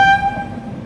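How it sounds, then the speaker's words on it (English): A train pulling out of a station gives a brief, loud horn-like toot that fades quickly into low rumbling rail noise. "the train pulled out of the station"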